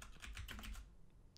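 Rapid typing on a computer keyboard during a HackTheBox exercise, a quick burst of clicking keystrokes that fades into quiet after about a second, with one faint extra tap near the end.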